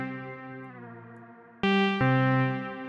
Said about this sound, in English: let's hear what would a reverb do here